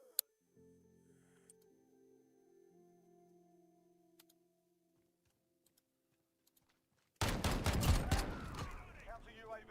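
Gunfire in Modern Warfare 2019, a DMR-style rifle, crackles as a loud dense burst in the final seconds, following a long stretch of quiet game ambience and sparse clicks.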